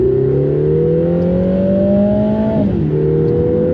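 A Lotus Emira with a semi-automatic gearbox in manual override pulls hard in 2nd gear; its engine note climbs steadily and loudly, then dips sharply near the end before settling again.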